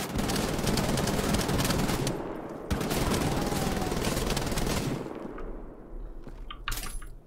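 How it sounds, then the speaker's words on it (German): A big heavy gun firing in Wolfenstein: The Old Blood: loud, continuous automatic bursts roar for about five seconds with a brief break midway, then fade to sparser, quieter clatter and debris sounds. "jetzt habe ich so eine große Wumme"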